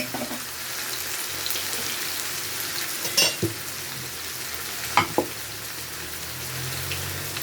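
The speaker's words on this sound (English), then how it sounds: "I'm going to put the saltfish in." Saltfish fries in a pan with black pepper, giving a close, steady sizzle and hiss, with a few sharp clinks and scrapes of stirring along the way, no voices.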